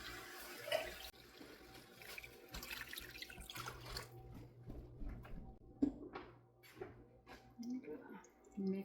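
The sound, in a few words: water being poured into a pot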